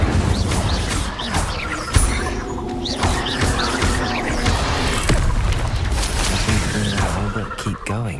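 Spell effects in Hogwarts Legacy, played on PC on Hard difficulty, including the Incendio fire spell among other combat casts: a dense, continuous wash of crashes, thuds and whooshes. A sharp impact lands near two seconds, over steady game music and effects.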